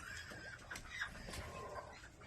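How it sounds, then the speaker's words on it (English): Chickens and small guinea fowl on a mini farm cluck and chatter in a busy, continuous flock murmur, with overlapping calls near and far, no talk over them. "There's little guineas running around everywhere."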